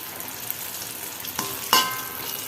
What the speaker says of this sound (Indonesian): Jadi goreng tempenya jangan terlalu besar apinya ya, supaya dia nggak gosong gitu loh.